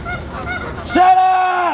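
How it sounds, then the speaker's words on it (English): Geese honk loudly and close by at an outdoor bike shoot. Several harsh overlapping calls are followed by one long, clear honk. "Those damn geese."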